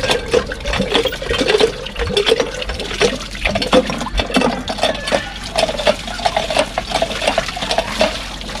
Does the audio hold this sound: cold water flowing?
yes